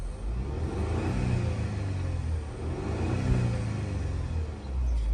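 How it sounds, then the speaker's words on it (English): An Audi 2.0T engine, with a failing charging system and the AC running, revs up close by, a steady low rumble that swells and holds for several seconds. "It's coming up a little bit, let's rev it."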